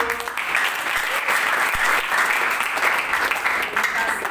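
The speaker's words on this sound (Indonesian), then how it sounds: "Tepuk tangan dulu." An audience claps steadily and continuously at a campus event, a dense, even wash of applause that holds strong from start to finish.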